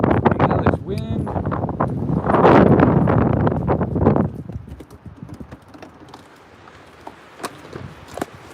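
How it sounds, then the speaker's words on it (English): Strong wind buffets the microphone during an outdoor dog walk, a loud rushing gust early on that eases into softer wind with scattered footsteps and small knocks, while people talk over it. "Hell, this wind."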